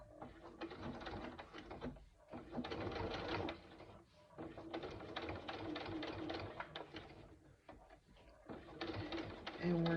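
A sewing machine slowly stitches around a zipper pocket on a backpack, a near, continuous whirring run with brief dips and stops as the stitching line is guided along.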